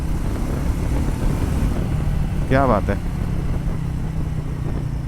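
Triumph Scrambler 400X motorcycle engine running steadily with a low, continuous drone throughout, close and fairly loud, with a man's brief exclamation partway through.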